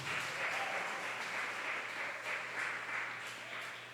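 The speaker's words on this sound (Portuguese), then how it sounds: "Você pode aplaudir o Senhor por isso?" A church congregation at a worship service applauds together, a steady wash of many hands clapping that sounds somewhat distant and reverberant, with a low electrical hum underneath.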